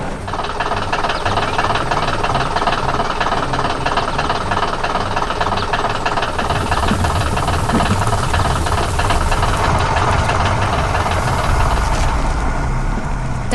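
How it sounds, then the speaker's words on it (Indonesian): A heavy diesel excavator engine runs loud and steady, with a dense mechanical rumble and knocking clatter throughout, growing slightly rougher partway through. "Terdengar suara mesin yang bekerja keras"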